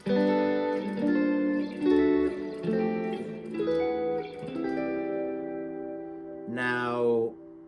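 A sustained, open guitar chord strummed several times in succession, ringing with bright, shimmering overtones and ending on a higher voicing.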